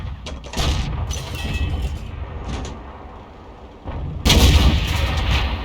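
Tank main gun fire in World of Tanks, a UDES 14 Alt 5 shooting at an Object 416, with heavy booming blasts and rumbling mechanical clanks as the shots land.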